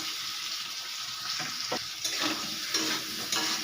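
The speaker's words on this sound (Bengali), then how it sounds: "আলুটা দিয়ে একটু কষিয়ে নেব।" Potatoes fry with murrel fish curry in a pan, a soft, continuous sizzle broken by a few short scraping stirs, fairly quiet and with no talking.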